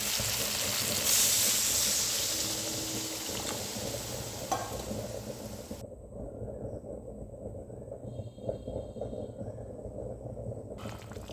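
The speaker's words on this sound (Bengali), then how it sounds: "এবার আমি 3 কাপ মতন জল দিয়ে দিচ্ছি।" Roughly three cups of water going into a pan of sizzling vegetables for a rohu fish dish, a loud steady hiss and splash that fades into a quieter bubbling simmer.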